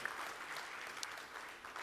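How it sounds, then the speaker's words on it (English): An audience at a FICCI media and entertainment conference session applauds, a soft, steady wash of many hands clapping at a distance. "Ladies and gentlemen, big round of applause"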